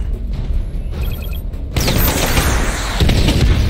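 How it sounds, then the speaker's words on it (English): A missile barrage firing in Batman Arkham Knight, beginning with a quieter stretch of beeping tones, then a sudden loud, sustained roar of booming explosions with a further blast hitting near the end. "Missile barrage level 2 ready."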